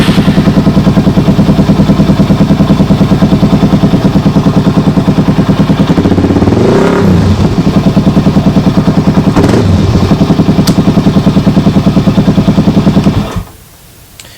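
A motorcycle engine fitted with a Trail Tech Vapor gauge runs steadily up close, with two short revs rising and falling midway before the engine cuts off near the end.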